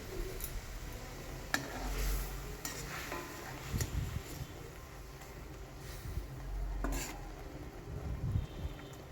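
Egg frying in a pan with a little oil and ground dried bay leaf, low steady sizzle under scattered scrapes and clinks of a spatula turning it, close and moderately quiet, no talking.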